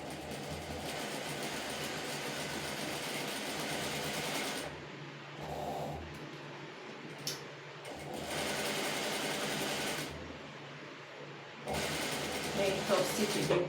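Sewing machine top stitching a pencil skirt, a close rapid mechanical whir running in several sustained bursts separated by short pauses, with a voice talking over it.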